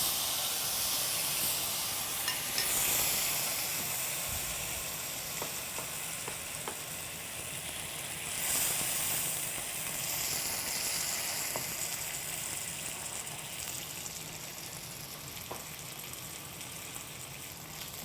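Spanish mackerel and lotus root grill in a pan as marinade sauce is added, giving a strong, continuous sizzle and hiss with swelling bursts of steam and small crackles throughout.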